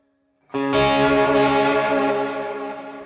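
Electric guitar played through a Seymour Duncan Dark Sun reverb/delay pedal with modulation engaged: a single sustained chord rings out loud and distorted, shimmering with chorus-like wavering and a reverberant wash that slowly fades.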